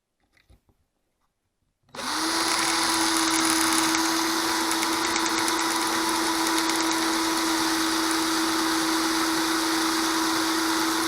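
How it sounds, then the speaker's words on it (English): After a couple of faint clicks, a power drill spins up abruptly and bores steadily into the metal of a stuck mic clip on a Behringer Ultralink MS8000, a loud continuous whine held without pause. "I'm going to drill in, and I'm going to make my own divot."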